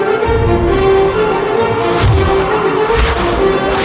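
Brass fanfare from a cue of a Harry Potter film score, loud and sustained with steady held tones and swelling accents over low orchestral support.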